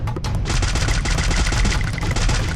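Rapid automatic gunfire from a weapon in the shooting game Free Fire, loud and sustained, with dense bursts of shots running throughout and no talk.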